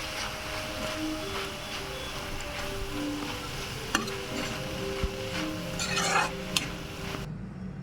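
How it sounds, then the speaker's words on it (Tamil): Utensil scraping and stirring a ground paste into frying amaranth greens (arai keerai thuvaran) in a pan with faint sizzling, a few sharper clinks of metal against the pan, no voices. "இதில் போட்டு நல்லா கிளறி விடுங்க"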